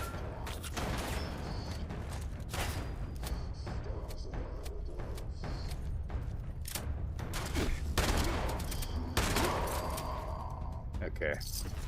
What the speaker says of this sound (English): Got a damn shotgun, man. He's like blasting me.